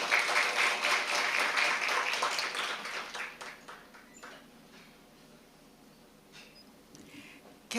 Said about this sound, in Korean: 모두 뜨거운 박수로 환영해 주십시오.